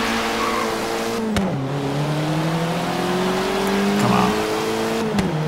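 A Fiat 500 engine revs and strains through gear changes in a Forza Horizon 3 race, its tone rising and dropping at each shift with faint tire noise. A voice speaks briefly.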